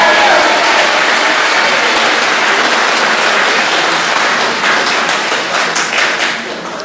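Audience applause at a Labour leadership hustings in Gateshead, a dense, steady wash of many hands clapping that stays loud throughout and tapers slightly at the end.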